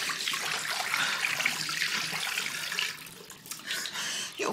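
Tap water runs steadily into a sink for washing hands and face, a close broadband splashing hiss that briefly dips and resumes near the end.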